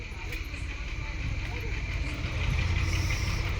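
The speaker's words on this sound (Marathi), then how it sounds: "इकडे ट्रॅक्टर आला बघा इकडं" A tractor engine approaches with a steady low rumbling drone that grows slightly louder, a continuous mid-distance chug over faint background voices.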